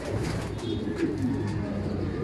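Racing pigeons cooing softly at a loft, low murmuring coos mixed with faint chirps under a steady background hum, no one speaking.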